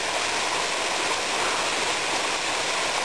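A waterfall and mountain stream pour beside a trail on the climb to a plateau, a constant broadband rush of water, close and steady throughout with no voices.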